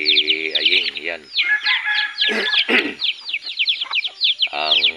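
A labuyo junglefowl gamecock kept as a lure bird clucks close by, giving rapid repeated clucks and short rising calls in bursts with brief gaps between them.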